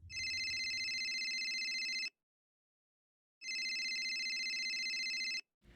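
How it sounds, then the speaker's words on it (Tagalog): Cellphone ringing with a bright, electronic bell-like tone in two long bursts separated by a short silence, loud and close, with no talk over it. "nagising ako na nagre-ring ang cellphone ko"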